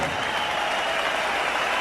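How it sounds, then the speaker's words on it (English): Sustained, dense applause from a large arena crowd after a heavyweight boxing bout in Zurich between Nikolai Valuev and Evander Holyfield, a steady loud wash of clapping and cheering with no breaks. "A round of applause for champion and challenger"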